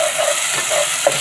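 Capers fry with garlic in a pan of oil, a loud, steady sizzle close up with a faint stir or two and no talk.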